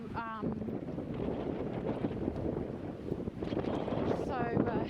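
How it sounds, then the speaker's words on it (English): Steady wind roars and buffets through a forest on a winter day at Paradisbakkerne, Bornholm, Denmark, loud and continuous, with someone talking over it. "hopefully you can hear my voice above the wind because it's a pretty windy day today"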